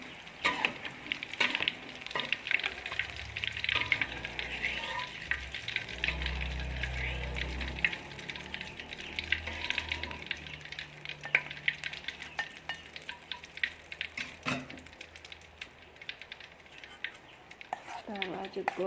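Oil sizzles and crackles steadily in a pan as tofu fritters fry, with occasional scraping and stirring noises; brief faint speech near the end.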